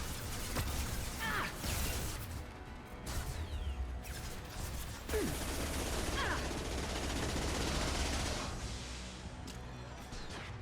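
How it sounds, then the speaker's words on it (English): Gunfire and explosive blasts rattle through a Mass Effect 2 firefight, with a grenade launcher among the weapons, as dense continuous combat noise with scattered louder bangs, steady and fairly close throughout. "Wait, I have a grenade launcher."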